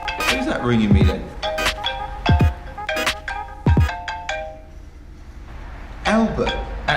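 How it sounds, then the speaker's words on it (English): A phone ringtone plays nearby as a melodic sequence of chiming notes that pause and resume. Faint background sound runs underneath. "Who's that ringing me then?"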